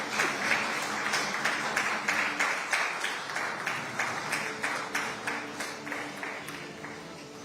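Sustained applause from a conference audience at a business conclave, many hands clapping steadily and fairly loudly throughout, with a few rhythmic pulses and no voices over it.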